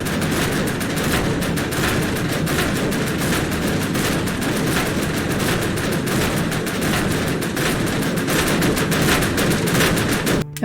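Dense, continuous rapid gunfire from the road-rage roguelike video game Death Skid Marks, loud and unbroken for the whole stretch, like chaotic automatic weapons in battle.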